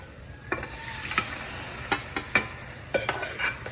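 A spoon scrapes and clinks against a pan while fish curry is stirred and mixed, producing scattered sharp taps over a low simmering background, close and without voices.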